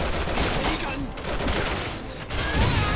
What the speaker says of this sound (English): That was a grenade. Ah, okay. From my grenade launcher.